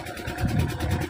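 An engine idles with a low, steady rumble throughout a brief moment, loud and close, with no talking.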